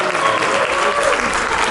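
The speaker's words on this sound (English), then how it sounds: "Come on, y'all get mighty weak on the applause." Loud, dense applause from a conference audience at the official opening of an annual church conference, filling the whole short stretch as a steady roar of clapping from a large crowd.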